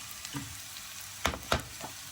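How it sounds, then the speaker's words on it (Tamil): Chopped beetroot being stirred into a frying pan, with two sharp scraping strokes close together over a quiet background sizzle and a fainter stir at the end. "சேர்த்து எல்லாத்தையும் நல்லா கலந்துட்டு நாங்கள் மூடி ஒரு 3 நிமிஷம் அவிய விடுவோம்."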